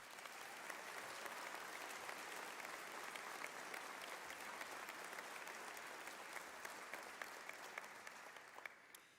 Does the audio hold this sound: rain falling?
no